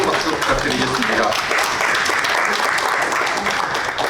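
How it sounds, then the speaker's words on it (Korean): Steady, dense audience applause fills a literary award ceremony hall, loud and continuous throughout with no break. "뜨거운 박수 부탁드리겠습니다."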